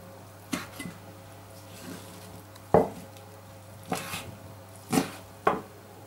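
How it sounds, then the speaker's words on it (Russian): A knife cuts cooled, boiled lung into very small pieces on a board, with about six sharp, close chops spaced irregularly over a quiet background hum. "Легкие уже остыли, и я их режу на очень мелкие кусочки, вот такие."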